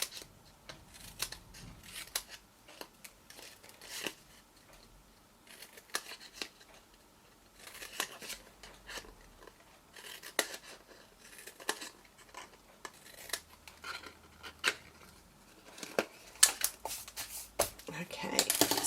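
Scissors snip notches into cardstock while a tealight box is being made, a quick irregular run of close, crisp cuts, with someone talking over them at moments.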